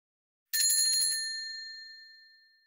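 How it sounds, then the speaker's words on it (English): A single bright bell ding strikes once, clear and high-pitched, then rings out and slowly fades over a couple of seconds. "Is the ring or ding of a bell a high sound?"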